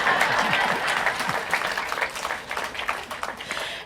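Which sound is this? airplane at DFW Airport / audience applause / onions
audience applause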